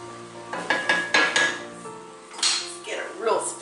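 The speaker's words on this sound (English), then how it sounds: "We're going to add all of our meat and any accumulated juice back to the pan." Chili verde meat and its accumulated juices go back into a pan, with clinks and scrapes of utensil on cookware and a light sizzle, while a voice talks over it.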